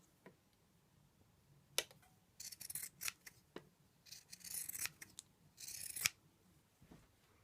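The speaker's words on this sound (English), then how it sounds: "trim the edges with the pinking shears, and I really do just trim the very edges" Pinking shears trim the very edges of fabric seams while a shirt collar is sewn, giving a series of crisp, close snipping bursts, some single and some in quick runs, with no talk.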